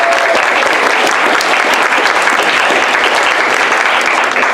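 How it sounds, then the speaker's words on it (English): A room full of people applauds improv comedy performers being called up for a game, dense, loud and steady clapping throughout with no talk over it. "Come up here, give them a applause."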